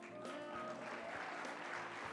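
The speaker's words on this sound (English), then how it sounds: "Round of applause for Egypt." Applause from a crowd at an international pharmacy students' opening ceremony in Kigali, a dense, steady wash of clapping filling the hall throughout.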